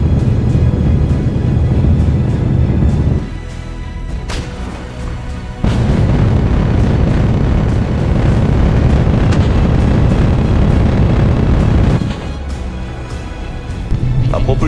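Ariane V replica rocket in Kerbal Space Program sheds its fairing, a loud sustained roaring rumble with booming bursts, dipping briefly twice as the engine noise shifts.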